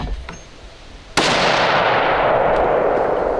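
A single loud hunting rifle shot cracks out at close range on an outdoor range, followed by a long echoing decay.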